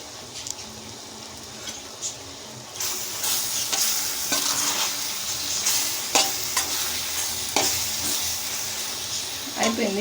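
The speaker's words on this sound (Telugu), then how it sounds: "ఇంకా ఒక 2 మినిట్స్ ఫ్రై చేసుకున్నాము." Amaranth leaves (thotakura) frying in a pan give a steady low sizzle, with scraping stir strokes and small crackles breaking through now and then; the sizzle grows denser and louder partway through.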